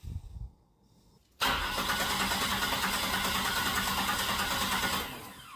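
Steady, rhythmic cranking of a 3800 V6 on its starter during a cylinder compression test runs loud and close for nearly four seconds after a quiet pause, then tapers off.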